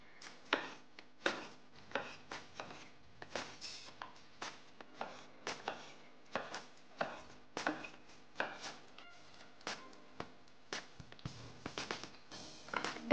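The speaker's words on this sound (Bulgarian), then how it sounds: "Ще използвам 2 картофа. Тях също ще нарежа на дребно." A knife chops two potatoes finely on a cutting board for chicken soup, with steady, close, crisp knocks in an irregular run and no talk.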